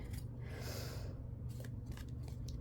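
Scissors snip through a small paper tag for a boho journal, a few close, quiet cuts and rustles with no talking.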